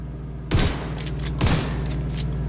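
Gunfire from the Ragers weapon in the video game The Division 2, two sharp, loud bursts about a second apart, each followed by a sustained, crackling, noisy wash, no talking.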